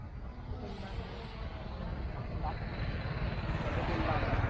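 A KS66 mini brushless drone in flight, a steady high buzzing whir of small propellers that grows slightly louder, with a person speaking over it.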